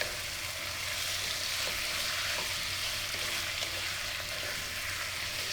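Beef sautéing with garlic and onion in a hot pan gives a dense, even hiss of frying, with faint stirring scrapes now and then, close and steady with no talk.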